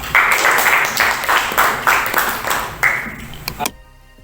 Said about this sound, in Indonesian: Kalau semangat, kita beri tepuk tangan bersama-sama.